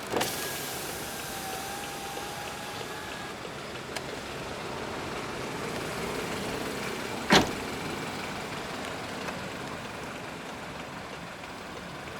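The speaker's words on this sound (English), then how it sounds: "all 4 windows are automatic." A steady electric motor hum of the power windows in a 2012 BMW X3 xDrive20i running in a quiet interior, with a sharp click near the end and no talking.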